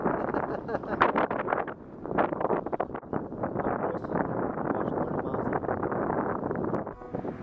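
Strong wind on a windy day during kayak fishing at Rockport, Texas, roaring steadily against the microphone in continuous close buffeting with a few sharper gusts.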